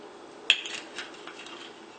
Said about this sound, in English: I'll just give this a good mix